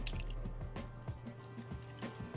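Cooking oil, milk and an egg go into cake batter for a coffee caramel crunch cake, giving soft wet plops, drips and squishy splashes spread unevenly across a short stretch over a faint steady hum.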